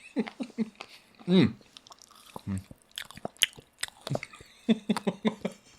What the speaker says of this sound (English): While we're munching